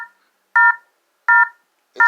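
An EMF scanner app on a cell phone gives three identical sharp electronic beeps, evenly spaced about three-quarters of a second apart, loud and close with silence between.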